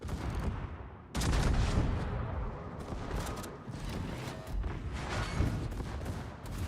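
Warship guns firing in World of Warships: heavy booming salvos and rolling blasts, one sudden loud onset followed by sustained thunderous firing with further bursts.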